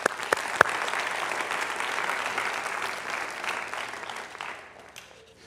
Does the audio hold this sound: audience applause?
yes